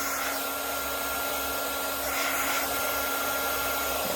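Heat tool blowing hot air over polymer clay, a steady close broadband whoosh with a faint constant hum underneath, running throughout without talk.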